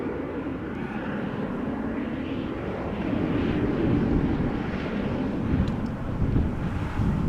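Airliner departing Amsterdam Schiphol Airport and climbing steeply, its jet engines giving a steady, loud, broad roar that swells slightly midway, with some wind buffeting on the microphone.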